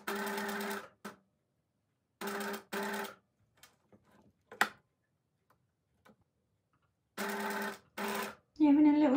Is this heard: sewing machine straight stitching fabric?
yes